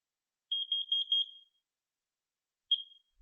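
A combined smoke and carbon monoxide detector sounding during a test: a quick run of about eight sharp high-pitched beeps, a pause, then one more beep, clear and close in an otherwise silent room.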